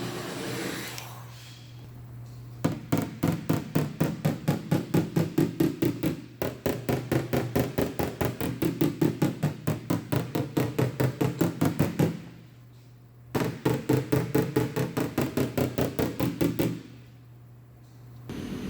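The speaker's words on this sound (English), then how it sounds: "I also have plenty of space to work the panel all around the tension areas with a hammer." Rapid, steady hammer blows on an aluminum panel, close and sharp, in long runs separated by a few brief pauses.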